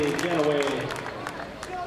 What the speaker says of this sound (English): You can hear the fans going wild, applauding their championship team